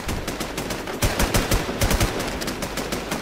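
Rapid automatic gunfire from the online survival game WarZ, loud close bursts of shots in quick succession with a brief heavier volley partway through, no voices.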